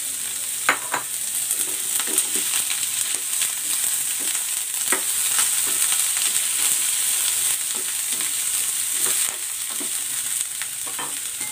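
Pork and snow peas sizzle loudly in a hot pan, with a steady bright frying hiss and scattered clinks and scrapes from stirring.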